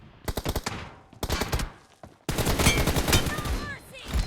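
Automatic M4 rifle gunfire in the mobile battle-royale game PUBG Mobile: two quick bursts of close, loud shots, then a longer sustained volley with ringing impacts and whizzing effects, without speech.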